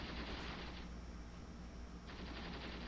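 Infantry gunfire in the war game Graviteam Tactics, a steady dense crackle of rifle and machine-gun fire that runs without a break for the whole stretch, loud and continuous with no voices.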